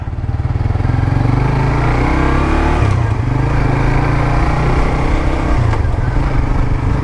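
A 2017 Suzuki GSX S150 motorcycle rides along with a steady, loud engine drone and buzzing exhaust, holding an even pace throughout with slight shifts in pitch.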